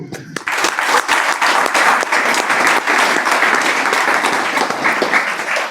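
Sustained audience applause at a religious discourse by a spiritual guru, a dense, loud wash of many hands clapping together that holds steady for several seconds with no voices over it.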